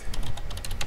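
Quick keystrokes on a computer keyboard while entering a report title, heard as a close, steady patter of clicks over about a second, with no voices.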